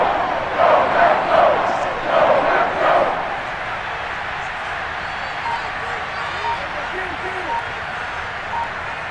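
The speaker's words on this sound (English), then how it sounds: "The crowd getting into it as we come up on a big 3rd down." Football stadium crowd at a Packers vs Cowboys game swells in loud bursts of cheering and roaring ahead of a third down, then settles into a steadier background murmur.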